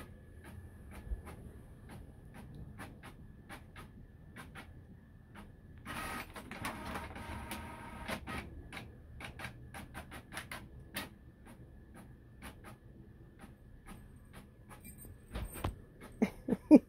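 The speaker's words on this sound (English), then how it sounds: "Hiding from the printer?" A home printer runs pages through in a busy mechanical stream of rapid clicks and whirring feed passes, with a denser burst of grinding midway, fairly close and alone.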